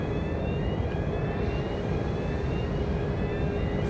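A Boeing 737-700 jet airliner at an airport, a loud, steady engine roar with a high whine, close and continuous throughout.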